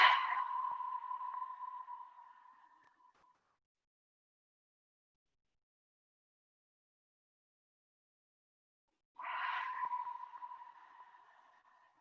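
Two long, soft breathy exhales of Ujjayi breath, each an H-like rush at the back of the throat, separated by several seconds of silence, close and quiet.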